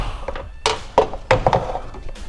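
A plastic box is worked loose from inside the fender of a Subaru WRX STi, giving several hollow thunks and knocks at close range with short pauses between them.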